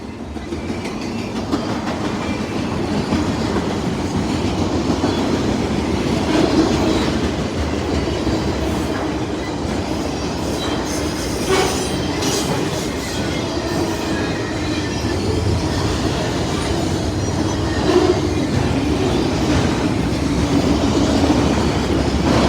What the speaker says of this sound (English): This is a log train that's auto-racks and intermodal combined, so it should be a high priority.